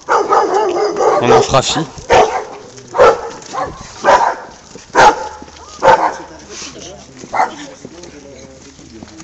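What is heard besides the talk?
dogs barking at visitors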